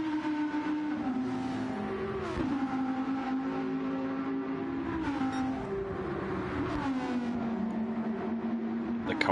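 A race car engine in Gran Turismo 7 drones at a high steady pitch, rising and falling through gear shifts, with no talk over it.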